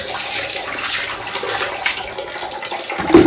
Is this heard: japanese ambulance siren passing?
no